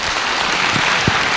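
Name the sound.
audience applause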